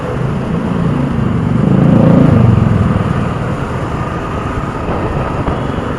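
A motorcycle engine passing close by on a rainy street, a steady loud drone that swells to a peak near the middle and then eases off, with no talk.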